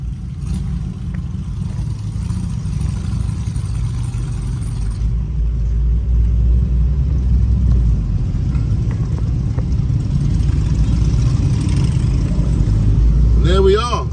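Harley-Davidson motorcycles on a road trip rally in Germany, a steady deep engine rumble running throughout, loud and close, with the tone shifting slightly as they pull away.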